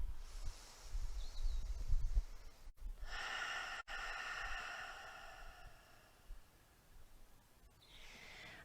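Slow Ujjayi breathing in and out through the nose with a constricted throat during yoga practice, a soft, airy, ocean-like exhale drawn out over several seconds, close and quiet.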